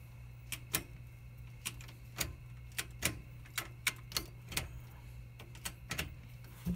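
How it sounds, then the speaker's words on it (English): An ND Miata's CravenSpeed short shifter gives a series of sharp, solid mechanical clicks at irregular intervals, close and distinct over a low steady hum. "that thing is like a solid click"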